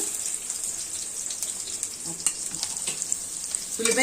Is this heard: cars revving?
no